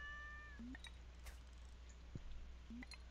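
A cat in the video game Stardew Valley Expanded gives short, clear meows, two or three quick calls spaced across a few seconds over a faint background hum, with no talking.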